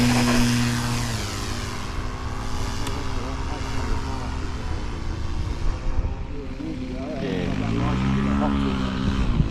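A small radio-controlled Xtra 260 model propeller aircraft flying 3D aerobatics buzzes overhead, its engine pitch rising and falling as it passes and loops, with people talking at times.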